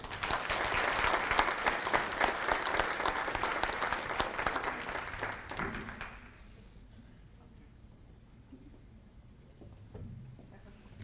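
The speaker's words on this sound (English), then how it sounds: "please give a big round of applause for CNS" An awards banquet audience applauds with dense, steady clapping for several seconds, then the clapping fades out to a quiet room.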